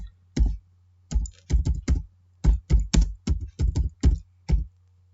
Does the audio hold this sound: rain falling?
no